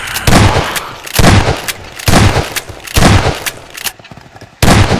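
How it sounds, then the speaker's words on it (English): A shotgun fires repeatedly in a video game, five loud, booming blasts spaced roughly a second apart, each with a short rumbling tail, with no talking. "Shotgun mechanics."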